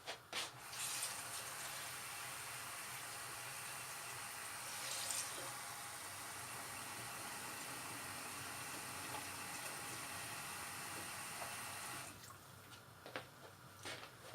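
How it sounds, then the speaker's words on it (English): Water running from a tap into a pot for boiling pasta, a steady, fairly quiet stream of rushing water lasting about twelve seconds before it stops, followed by a few small clinks. "So I'm just going to put some water."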